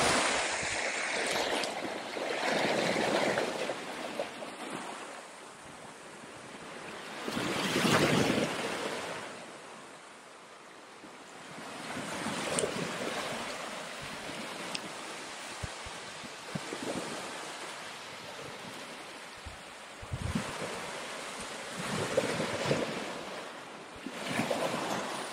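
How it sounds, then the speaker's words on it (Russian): Black Sea waves surge and recede in slow swells at Malorechenskoye, Crimea, with wind buffeting the microphone; the roar rises and falls several times with no voices. "Море опять же шумит."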